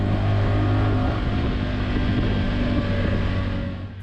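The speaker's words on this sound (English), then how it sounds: "it was just perfect for testing out a machine like this Honda Talon" A Honda Talon side-by-side drives along a curvy, hilly road, its engine droning loudly and steadily up close before easing off slightly at the end.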